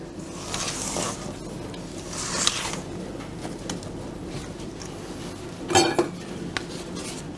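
Light chocolate macaron batter being mixed in a bowl, with soft scraping and occasional clinks of a utensil against the bowl over a low background hum, one louder clatter near the end.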